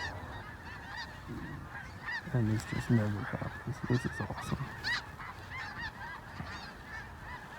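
Blue geese and Canada geese honking close overhead during a waterfowl hunt, a loud burst of overlapping calls that rises to a peak and then thins into scattered honks, with brief speech over the calls.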